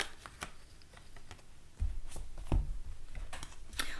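A Moonology oracle card deck being shuffled by hand, with soft papery riffles and light taps that come in irregular bursts. It sounds close and quiet, and no voices are heard.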